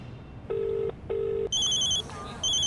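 A telephone rings in an indoor comedy scene, giving two clear electronic bursts followed by a brighter, higher-pitched ringtone pattern, loud and close, with no talk over it.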